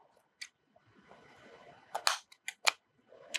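Scissors snip crochet yarn while finishing a criss-cross braided baby girl sandal, giving several sharp, close clicks clustered near the end after soft rustling handling sounds.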